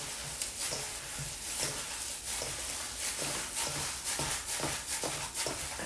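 A lumpia shanghai filling with tofu and cornstarch is stirred in a bowl, giving soft, rhythmic wet scraping and squishing strokes that repeat steadily at a low volume, with no voices.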